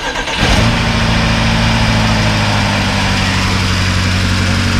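A 2016 BMW F85 X5M with 702 hp, damaged and being rebuilt, cranks briefly and fires up, then settles into a loud, steady idle up close, with no talking.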